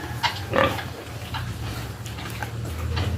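Piglets in a farm pen give short grunts and soft oinks over a constant low background hum, heard close and fairly loud with no talk.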